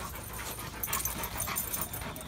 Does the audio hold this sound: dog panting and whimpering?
yes